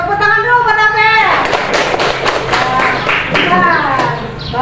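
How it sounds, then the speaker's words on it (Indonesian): A classroom group claps for a student during an Islamic religious education lesson, a loud burst of clapping mixed with chatter and voices, with speech before and after. "Tepuk tangan dulu buat Bel."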